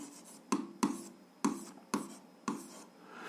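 Pen strokes on paper as a math solution is written out, a series of about six distinct scratchy strokes in a steady rhythm, close and fairly quiet, with no voices.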